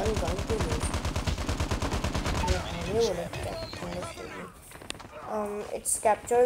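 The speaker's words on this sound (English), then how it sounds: "I'm using M4 MG, and I don't know why, but M4 MG is a really fun gun to" Rapid bursts of M4 MG machine gun fire in a shooter game on the Rust map, sharp regular shots filling the first seconds, then someone talks over scattered game sounds.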